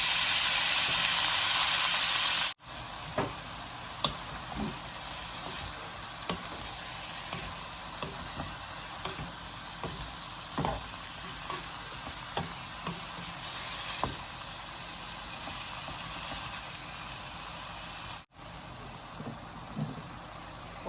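Mixed seafood stir-fried with shallots in a hot pan for seafood pasta, giving a loud, steady sizzle with occasional scrapes of stirring, close and without talk.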